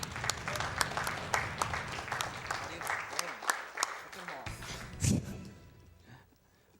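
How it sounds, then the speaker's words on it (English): An audience at the AGDQ 2018 speedrun event applauds a Gunners Heaven run on PSX: a dense, loud clatter of claps with sharp individual hits that thins out and fades near the end, with a voice talking over it. "The crowd goes wild."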